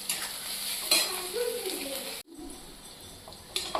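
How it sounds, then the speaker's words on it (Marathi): Garlic sautés in a pan toward browning for sprouted matki usal, with a close, steady sizzle, spatula strokes, and a brief drop-out partway through. "लसूण हे 2 मिनिट आपल्याला असं परतून घ्यायचं"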